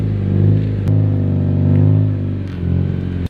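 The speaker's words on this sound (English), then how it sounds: "Now it's time for the least loudest car" A stance car's engine revs loudly and steadily up close, its deep rumbling drone holding for a few seconds with a brief dip partway through before cutting off abruptly.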